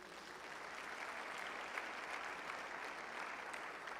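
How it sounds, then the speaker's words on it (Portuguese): A church congregation applauds during a gathering, even sustained clapping heard somewhat distant and fairly quiet, with no speech on top. "Vamos dar um aplauso a ele por isso?"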